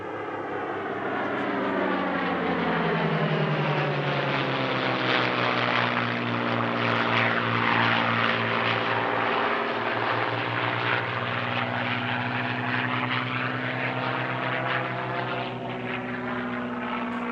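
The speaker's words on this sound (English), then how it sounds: "a two-ship display featuring France flying legends P-40N Warhawk, based here at Moulins" A P-40N Warhawk and a TF-51D Mustang fly a two-ship display at an airshow in Moulins, France, their piston engines droning loud and steady throughout, with a deep harmonic growl that swells and shifts pitch as the pair passes close.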